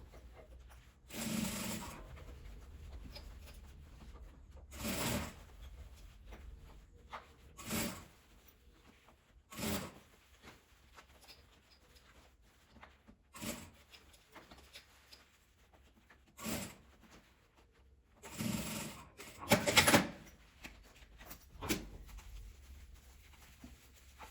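A sewing machine topstitches a zipper pouch in short separate bursts of rapid stitching between quiet pauses, with faint handling of fabric in between.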